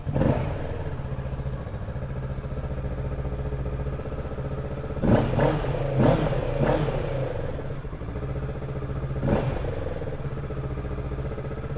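A Kawasaki Ninja 650 KRT sports bike starts up and settles into a steady close idle, then gets several sharp throttle blips in quick succession and one last rev before dropping back to idle.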